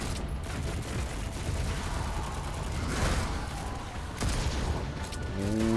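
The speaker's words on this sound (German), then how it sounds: "Der Schuss, der haut so derbe rein," Dense bursts of gunfire in the video game Darksiders Genesis crackle and boom in rapid succession, loud and close, with mechanical clanks mixed in.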